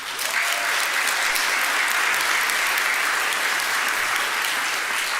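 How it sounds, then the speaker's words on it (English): An audience at a 2023 nursing pinning ceremony applauds, a dense, steady wash of clapping that continues evenly from start to finish with no voices over it. "So please help me give them a round of applause"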